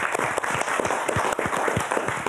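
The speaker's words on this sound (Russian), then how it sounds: "а мы тебя поддержим аплодисментами." Brisk applause from a television studio audience, a dense patter of individual claps close to the microphone, loud and even for a couple of seconds.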